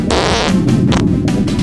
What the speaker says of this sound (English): Yeah, I mean farting.